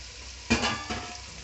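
Chili powder and turmeric stirred into hot oil in a pan for a village-style fish curry, a sudden sizzle burst followed by a second scraping stir, close and fairly loud with no talk.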